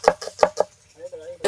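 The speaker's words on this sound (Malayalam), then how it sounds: "ഉള്ളി ഇങ്ങനെ ചെറുതാക്കി അരിഞ്ഞാൽ മതി." Onions being chopped finely with a knife on a board, four quick close knocks followed by a short pause and another chop.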